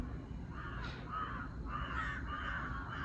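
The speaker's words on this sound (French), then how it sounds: "Bah ouais, en fait, c'est que des corbeaux." Several crows caw in a series of harsh calls in India, somewhat distant, over a faint background hiss.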